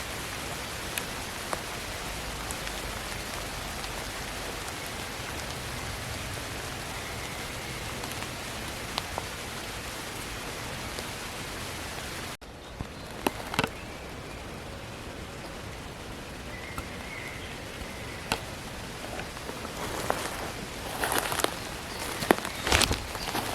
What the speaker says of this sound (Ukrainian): Але зараз спустився сильніший дощик. Такий звук.